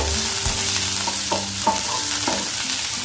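Pork stir-fries in a pan with lai greens and bamboo shoot, a constant close sizzle broken by several clinks and scrapes of a spatula against the pan.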